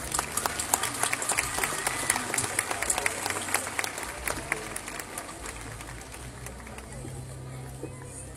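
An audience at a children's choir and orchestra concert claps continuously, dense overlapping hand claps with crowd murmur beneath, steady then slightly thinning toward the end.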